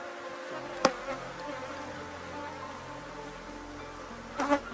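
Honey bees at an open hive during an inspection make a steady, dense buzzing drone up close, with a couple of sharp clicks or knocks and no talk.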